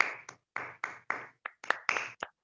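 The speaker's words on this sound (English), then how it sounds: "give Toastmaster Manjunath a huge round of applause" A small group claps for a Toastmasters speaker at an online club meeting, giving a short series of separate, uneven claps that stop and start rather than build into sustained applause.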